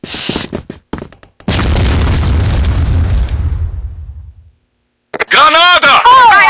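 A loud, close grenade blast in a multiplayer shooter game, a heavy boom that rolls and fades over a few seconds, with game noises and sharp effects before and after.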